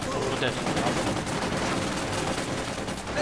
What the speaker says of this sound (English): Gunning down the mortar crewmen.